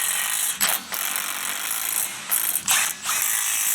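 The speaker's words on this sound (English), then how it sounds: "right now we're gonna tighten all of the loose nuts." A hand ratchet tightens loose nuts on a turbocharged Jeep Wrangler's steering joints, giving close, rapid clicking in two short bursts over a steady mechanical background hum.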